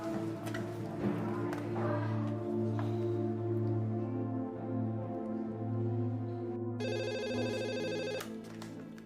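A telephone rings in a home during a dramatic Indonesian TV film scene, heard as a short burst of electronic ringing near the end over a steady background tone and low voices.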